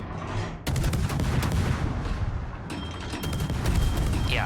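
Naval guns fire in the World of Warships game, a sudden loud broadband blast that rolls straight into dense, sustained barrage noise for several seconds.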